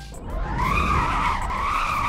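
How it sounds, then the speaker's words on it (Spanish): A car drifting in the Roblox game Driving Empire, a sustained tire squeal that swells and bends in pitch over engine rumble, loud and continuous for about two seconds. "Mira qué derrape hago, chavales."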